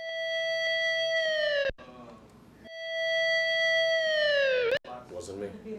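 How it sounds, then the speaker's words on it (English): A synthesized siren tone holds steady then sweeps downward, sounding twice, with brief talk and noises in between the wails. "That's a siren."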